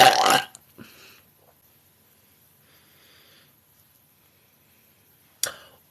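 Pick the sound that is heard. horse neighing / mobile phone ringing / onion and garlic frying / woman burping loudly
woman burping loudly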